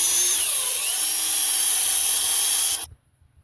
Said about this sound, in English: Trim the bark down a little bit and drill in there.